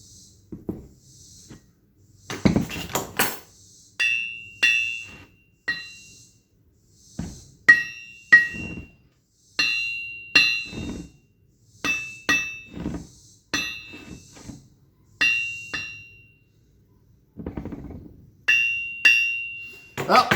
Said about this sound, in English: The last little bit you heard was me hammer testing the new half VW crank as opposed to the 4-cylinder crank that came out of my engine